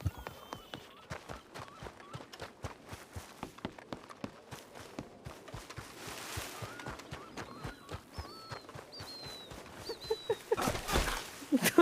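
A horse moves about close by, its hooves clopping in a steady uneven rhythm, with a few high whinny-like calls and birdsong in the background, and a person talks faintly.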